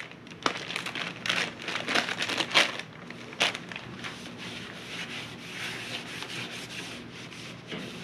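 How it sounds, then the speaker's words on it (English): Dust and grime are brushed and scrubbed off a gas furnace blower, a dry rubbing and scratching with uneven bursts of strokes, close by and fairly quiet, with no talking. "we're going to clean off all this dust and grime"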